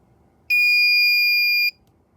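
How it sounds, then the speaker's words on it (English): An endotracheal tube movement detection device sounds its alarm: a single steady electronic beep tone, loud and close, lasting a little over a second before cutting off, alone with no talking. "And once it sounds the alarm,"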